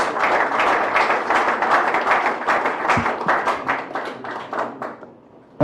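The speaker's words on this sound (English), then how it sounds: "we can do better than that as we applaud our chief guest in a better way" An audience at a Kenya diaspora symposium applauds the chief guest with loud, close hand clapping that holds steady, then thins into scattered claps and fades near the end.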